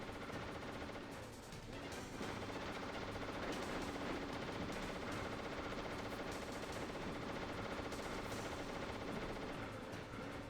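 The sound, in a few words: enemy gunfire in Metal Gear Solid video game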